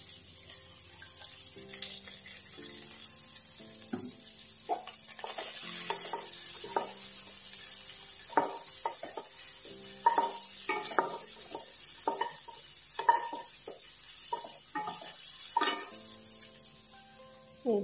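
Onions frying in a pan with ground coriander, cumin, turmeric, salt and green chili, a steady sizzle running under repeated scraping stirs of a utensil, close and moderately loud, no voices.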